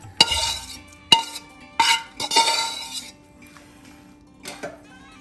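Spicy Maharashtrian-style chiwda being mixed with masalas in a pan: a few separate bursts of scraping and clinking, close and fairly loud, with quiet gaps between them and no talk.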